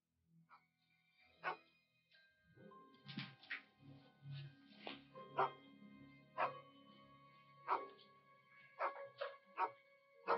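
A dog barks repeatedly in sharp, loud bursts with occasional yips and whimpers, the barks coming in irregular clusters through a tense indoor scene, with some faint background voices.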